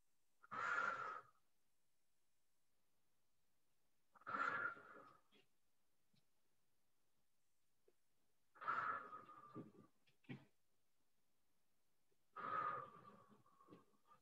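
Four slow, deep breaths are taken during a Pilates exercise, each a close airy exhale with a breathy rasp, separated by several seconds of near silence.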